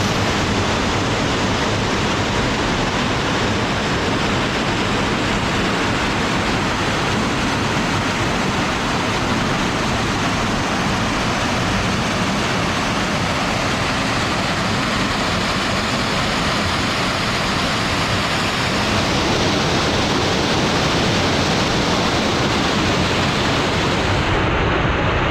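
Spirits Creek Falls, a creek waterfall on the Ozark Highlands Trail, pours in a steady, loud broadband rush that fills the whole stretch without a break, easing slightly near the end.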